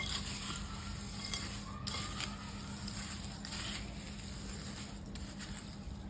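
A snack mixture sizzles in a pan with a steady, faint hiss while a spoon scrapes and stirs now and then, heard at low level.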